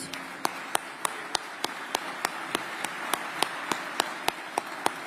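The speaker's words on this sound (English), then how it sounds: "Let's clap for her, please." Sparse, evenly spaced claps ring out at a moderate distance over a soft room murmur at a Veterans Day breakfast, more like one or two people clapping than full applause.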